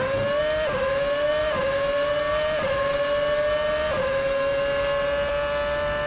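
Race car engine in a racing video game at night, a steady high-pitched drone held at near-constant revs with brief dips at gear shifts, loud and continuous.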